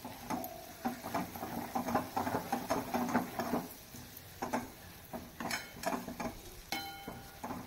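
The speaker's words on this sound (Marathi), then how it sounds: "आणि ते देखील आपण तेलावर व्यवस्थित आता परतून घेऊया" Onion and coconut paste frying in oil, stirred in a pan, with soft sizzling and intermittent scraping and clinks of a spoon against the vessel.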